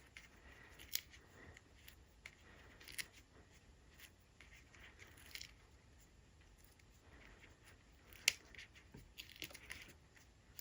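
Scissors snip through card paper for a Halloween card, a series of quiet, close, crisp cuts scattered irregularly with one sharper snip, no talking.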